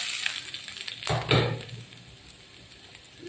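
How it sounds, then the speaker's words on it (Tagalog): Garlic sautés in oil in a pan while beef steak is being cooked. A sudden burst of sizzling and frying flares about a second in, then settles into a soft, close crackle. "mag-iisa naman tayo ng bawang."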